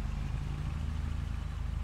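A tractor-style vehicle engine from a farming video game, hauling a strapped-down trailer, runs at a steady, loud drone with an even low throb and no talk over it.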